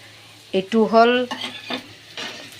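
Pumpkin hits a hot oiled pan, producing a sudden sizzle with stirring and pan clatter over about a second, then quieter frying with a few utensil knocks.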